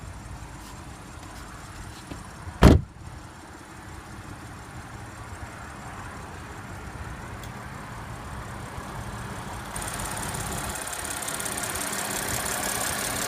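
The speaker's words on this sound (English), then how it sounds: "Under the hood is a 3-liter supercharged V6 engine with 8-speed Tiptronic transmission Audi Quattro all-wheel drive" An Audi Q7 3.0-litre supercharged V6 with 8-speed Tiptronic and quattro all-wheel drive idles steadily under an open hood, a sharp knock near the start, the hum getting slightly louder later.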